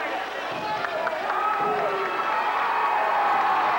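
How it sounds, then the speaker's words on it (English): In a 1993 high school basketball gym, a New Knoxville student cheering section lets out a sustained mock cheer, a loud, steady crowd roar of voices throughout. "a mock cheer comes from the New Knoxville cheering section"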